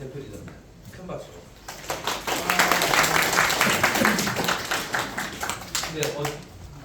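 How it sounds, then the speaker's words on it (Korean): Applause breaks out for a Gwangju director being introduced at an education gathering, a dense patter of many hands clapping that builds after a quiet start and carries on steadily to the end. "큰 박수"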